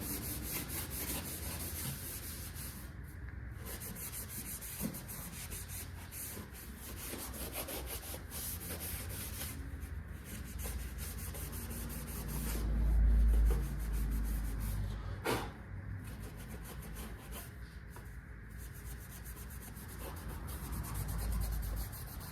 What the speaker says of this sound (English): Scuff her up the best that you can with what you got.